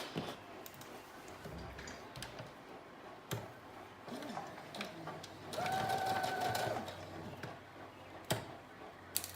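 Stitching a 5/8 inch dress seam on a sewing machine, with soft ticks and handling noises before a short whirring run of the machine, followed by more quiet clicks and rustling.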